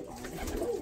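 Soft, low cooing of pigeons, close by and brief, with no talking.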